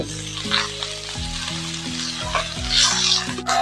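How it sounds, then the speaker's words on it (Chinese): Pickled Chinese cabbage stir-fries in a wok with a loud, close, continuous sizzle, punctuated by scraping stirs and a steady low tonal hum underneath. "我们呢炒酸菜呢，把它这个水分呢逼干， 完全呢把它这个酸味呢把它炒出来。"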